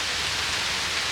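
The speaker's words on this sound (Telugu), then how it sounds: "వర్షం పడుతుంది." Rain falls steadily outdoors in a village, making a soft, even hiss with no breaks.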